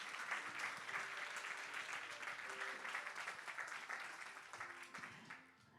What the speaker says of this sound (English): Another round of applause for Dr. Earl.